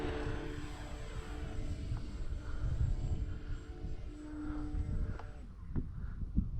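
An E-flite Trojan 1.1m T-28 RC airplane flies overhead in a crosswind on a rural airfield, its electric motor a moderately loud droning whine that swells and fades as it passes, with light wind noise underneath.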